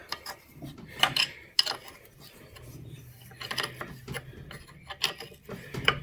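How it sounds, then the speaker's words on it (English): Ratchet spanner clicking while stripping a Suzuki DR200 motorcycle in a workshop: a few short, sharp metallic click bursts spaced irregularly, fairly close, over low background rumble with no talk. "Oh, hang on, ratchet spanner."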